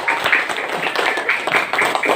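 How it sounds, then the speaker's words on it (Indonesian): A classroom of students claps for a classmate, a lively patter of many small hands close by, coming in uneven bursts over a couple of seconds. "Baik, bagus, tepuk tangan dulu."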